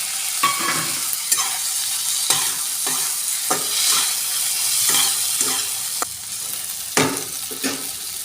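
Boiled potatoes fry in a pan with a continuous sizzle, broken by repeated scraping clicks and knocks of a spatula stirring them at an uneven rhythm, close and fairly loud.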